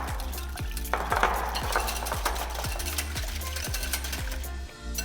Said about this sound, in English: And then that all gets whisked together.